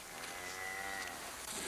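A single long, low moo from a cow, fairly close, rising and holding over a steady outdoor background.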